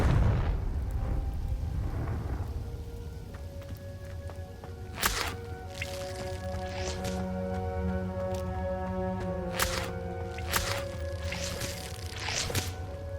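Confringo spell blasts in Hogwarts Legacy: a rumbling burst at the start, then several sharp cracking impacts scattered over sustained tonal game ambience, with no talk.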